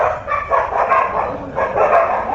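A dog barks in quick repeated yips and barks, fairly close and steady, with no talk over it.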